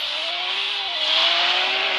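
A car driving in the Roblox video game gives a steady synthetic engine drone that rises slightly in pitch, loud and continuous for about two seconds.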